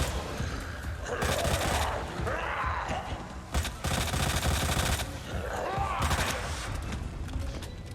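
Bursts of gunfire shooting a zombie in the video game Resident Evil 2, three loud clusters of rapid shots separated by short pauses, over a low game background.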